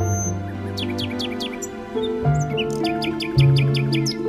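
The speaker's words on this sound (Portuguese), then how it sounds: "Estarei alegre e cantarei como este rouxinol para louvar-te." A nightingale sings a run of bright rising chirps and trills, near and clear, over a steady low hum of background music.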